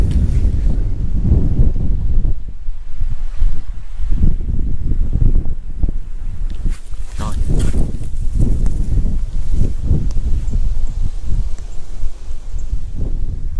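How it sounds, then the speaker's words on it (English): Strong wind near Devils Tower, Wyoming, buffets the microphone in loud, continuous low rumbling gusts that swell and ease throughout, with no voices. "it's really windy at times"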